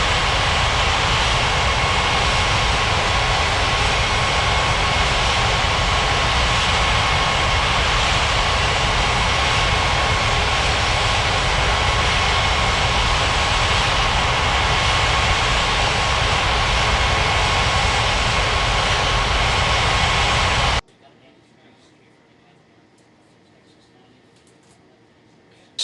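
Steady jet engine roar from an airliner taxiing at an airport in a mobile air traffic control game, a loud constant drone that holds for about twenty seconds before cutting abruptly to a faint background hum.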